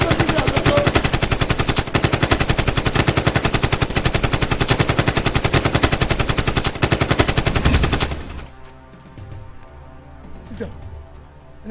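Rapid, continuous machine-gun fire from a Nigerian movie action scene rattles loudly and densely for about eight seconds, then cuts off abruptly, leaving quieter background sound; shouting voices are mixed in.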